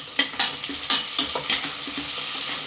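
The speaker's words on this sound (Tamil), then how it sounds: "கொஞ்சமாக உப்பு போட்டு வதக்குங்க. வெங்காயம் சீக்கிரமாக வதங்கிடும்." Onions sautéing with a little salt in a pan, a soft continuous sizzle broken by sharp scraping spoon strokes in a quick irregular rhythm, close and alone.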